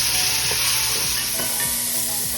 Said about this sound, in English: I'm just going to stir it around and brown it all over.